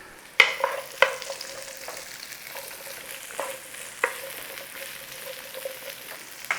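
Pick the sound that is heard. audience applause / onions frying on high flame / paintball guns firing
onions frying on high flame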